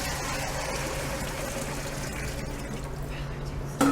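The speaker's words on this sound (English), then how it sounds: "we're going to add our water" Water poured into a pot as the base for a chicken stew, a steady broadband rushing splash that runs continuously and fairly softly, ending with a brief clunk.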